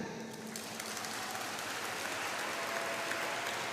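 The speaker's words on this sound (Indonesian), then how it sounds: "Tepuk tangan." Audience at a school gathering clapping, a steady dense patter of many hands heard at a moderate distance, fairly faint and continuous throughout.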